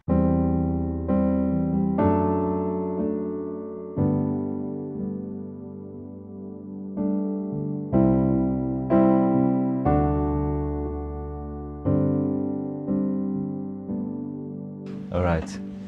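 Sustained piano chords from the worship song There is none like You, struck roughly once every one to two seconds, each ringing out fully and close up, with no voices and a brief bright flurry at the very end.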